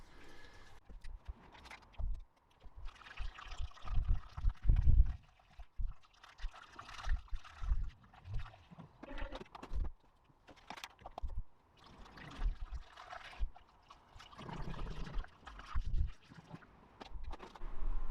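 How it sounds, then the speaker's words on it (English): Water and antifreeze are poured into the cooling system of a Gardner 2LW engine on a narrowboat, in uneven splashing and gurgling bursts with handling knocks and pauses between them. "Start filling it back up with water and antifreeze, obviously."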